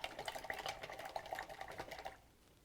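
A paintbrush swished around in a container of rinse water, a quick run of wet splashy knocks and swirls close by that stops abruptly near the end.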